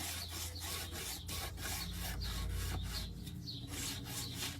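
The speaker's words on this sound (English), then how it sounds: "I'm going to take a little bit of my sandpaper and just lightly go over it." Sandpaper passes lightly over painted wood in a steady series of soft, rhythmic rasping strokes, faint and close, with no talking.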